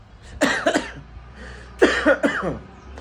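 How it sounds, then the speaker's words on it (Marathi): Two separate bursts of coughing, each a quick cluster of harsh coughs, close and fairly loud over a low steady hum. "खोकला आपला कायम नेहमीप्रमाणे"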